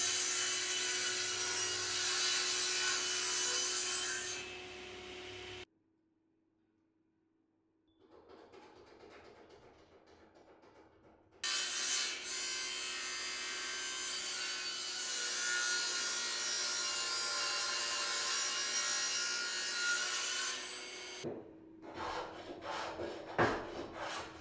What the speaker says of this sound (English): I'm going to use the mitre gauge to get the pieces cut.